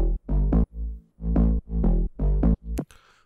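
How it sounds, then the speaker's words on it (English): A tech house bass line made in FL Studio with stock plugins only, built from three layers, plays alone as a series of short, punchy, deep notes in a bouncy rhythm, close and clean. "This is how the bass in this one sounds like."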